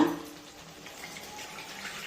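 Water poured into bitter gourd gojju over ground masala with tamarind, a soft, steady splashing hiss that runs unbroken for about two seconds with no voices.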